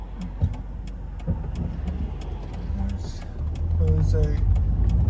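A Mercedes A200 W169 with a CVT gearbox accelerates; its steady engine hum swells louder toward the end beneath a person talking, with faint clicks and rattles from the cabin.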